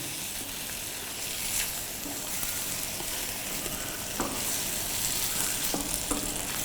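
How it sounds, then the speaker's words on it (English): Steady, close sizzling of chicken frying in a hot pan for chicken stroganoff, a constant crackling hiss with a few louder pops and spits. "Now the chicken started just sizzling"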